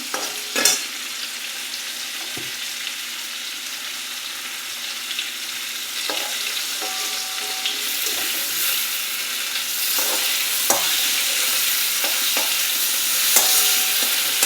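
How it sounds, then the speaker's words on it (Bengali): Hilsa fish frying in a pan of hot oil, a continuous close sizzle with occasional stirring scrapes and clinks, steady and fairly loud, no talking. "এদিকে ইলিশ মাছ ভাজা হচ্ছে।"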